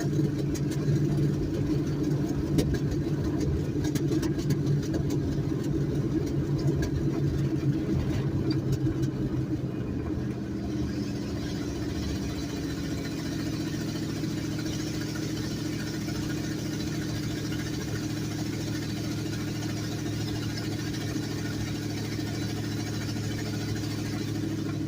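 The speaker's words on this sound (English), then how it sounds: "Third gear idle." A car engine idles steadily in third gear, a continuous low rumble with a constant hum, fairly close and unchanging throughout with no talk.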